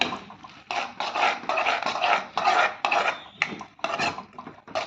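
Cauliflower manchurian being mixed in a pan with chilli sauce and soy sauce, a spoon scraping and clattering against the pan in quick rough bursts, close and fairly loud, no voices.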